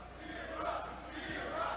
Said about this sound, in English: this crowd solely behind Chris Hero here in Philadelphia, Pennsylvania at the XPW Arena